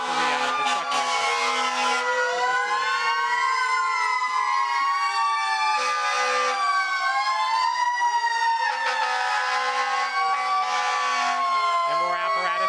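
A fire engine's wailing siren rises and falls in repeated sweeping cycles, loud and continuous, as fire apparatus from Shirley rolls past in a Civic Days parade; an announcer's voice is faintly audible beneath it.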